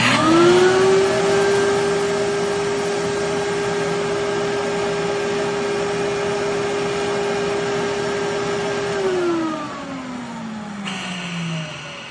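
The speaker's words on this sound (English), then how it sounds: "we're going to turn the table on, and we're going to turn the vacuum on." A VPI HW-17 record cleaning machine's vacuum motor runs steadily with a high whine for several seconds, then winds down as the pitch drops; a faint hiss remains afterward.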